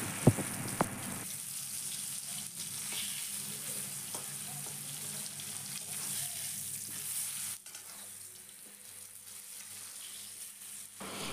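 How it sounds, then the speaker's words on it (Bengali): Green mango pieces frying with tempering spices in a pan for a sour mango dal, giving a steady close sizzle with occasional stirring clatter and no talk. "এখন আমগুলোকে ফোড়নের সাথে খুব ভালো করে ভেজে নিতে হবে।"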